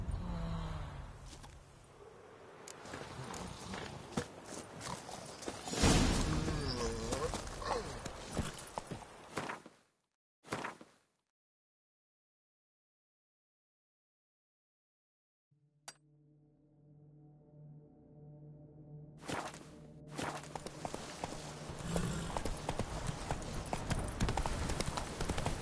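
Horse hooves clip-clop while riding in The Witcher 3, a steady beat under game music and ambience, broken by a stretch of near silence before the trotting resumes.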